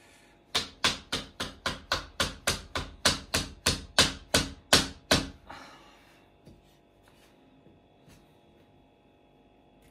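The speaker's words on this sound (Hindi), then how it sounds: "इतना ठोकने के बाद एप्पल पे इतना सा असर पड़ा है ये देखो।" A nail hammered into a frozen apple outdoors in extreme cold in Yakutsk, Russia, about eighteen sharp, hard knocks in a quick steady rhythm, close and loud, then a few faint scattered taps and quiet.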